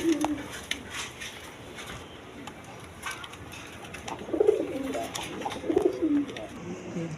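Red Gola pigeons offered for sale, including a red hen, coo softly and fairly close. Two short bursts come in the second half over a faint, noisy background.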